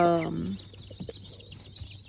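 Baby chicks in a brooder give a short harmonic cluck, followed by soft, faint high peeps and chirps scattered over a quiet background.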